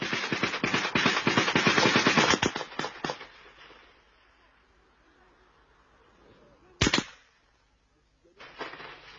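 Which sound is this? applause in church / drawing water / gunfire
gunfire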